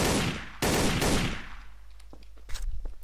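Video game gunfire: two dense, loud bursts of rapid automatic shots in the first second and a half, fading into scattered clicks and a brief later burst of shots and noise, with no voices.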